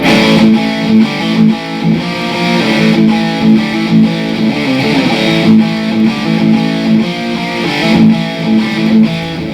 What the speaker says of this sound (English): You'll notice as I step through these models, the farther I go along, is like the more distortion I get.